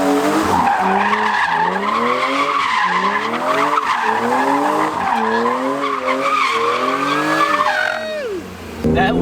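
Tires on a BMW E36 M3 squeal loudly on the road in a long, wavering skid lasting most of several seconds, with engine noise underneath before the screech cuts off.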